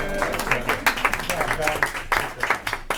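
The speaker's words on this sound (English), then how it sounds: "I think you deserve a little round of applause on that." A modest round of applause at a city council work session, scattered hand claps over about three seconds with some talking mixed in.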